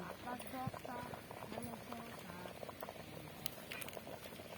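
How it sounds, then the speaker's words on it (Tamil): Chicken curry with masala bubbles and patters steadily in a pot, a busy gurgling simmer with faint voices in the background. "கொதிக்குது பாரு."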